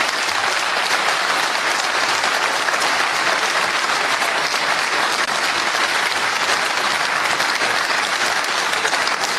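Audience applause from a gathered crowd, a dense steady wash of clapping that holds loud and unbroken throughout, with no voices over it.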